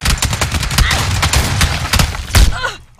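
Rapid video game gunfire, loud and close, with dense overlapping shots and bursts over about three seconds and almost no talking.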